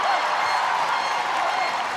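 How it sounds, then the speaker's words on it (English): A stadium crowd roars steadily at a Netherlands versus India field hockey match after a penalty flick is cleared off the line, a dense sustained wash of cheering and noise. "And the crowd cheer as if they've scored."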